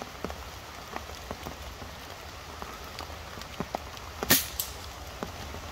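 Rain falls outdoors during air rifle shooting, pattering steadily with scattered close drops tapping on surfaces. A single sharp, loud report cracks out near the end.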